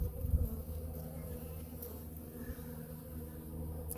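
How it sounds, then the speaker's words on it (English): A big bumblebee and honey bees buzz around hive frames being cleaned out, a soft, continuous low drone with gentle swells, heard fairly faintly at close range. "Look at that big bumblebee."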